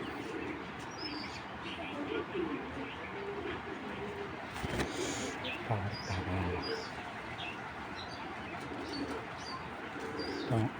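Imported racing pigeons coo in low, repeated phrases close by, with scattered chirps and the rustle of a loft around them.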